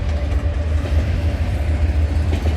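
CN freight train rolls past on the Halton Subdivision, a steady low rumble with faint rhythmic wheel clatter, close and continuous with no talk.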